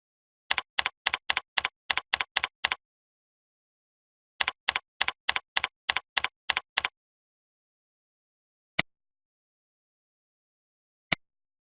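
Keys tapped on a computer keyboard while entering symbols into a Siemens S7-1200 PLC symbol table: two quick bursts of evenly spaced clicks, then two lone keystrokes after pauses, crisp and close in a silent room.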